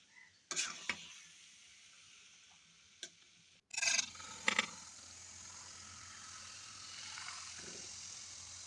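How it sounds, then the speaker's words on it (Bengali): Elephant apple pickle with five-spice is stirred in a pan, making a few sharp scraping bursts and clicks between quiet stretches, then a soft, continuous rub. "এবার আবারও ভালোভাবে নেড়ে চেড়ে মিশিয়ে নেব"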